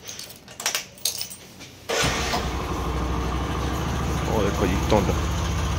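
A motorbike's keys jangle briefly before its engine fires up abruptly and settles into a steady, loud idle on a cold, foggy morning; someone speaks briefly over it.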